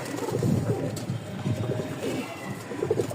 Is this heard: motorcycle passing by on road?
no